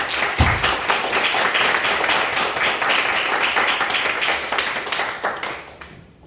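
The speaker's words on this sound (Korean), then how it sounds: "박수로 맞이하겠습니다" Church congregation applauding during a service, loud, close, dense clapping that starts with a sharp thump and continues steadily before fading out at the end.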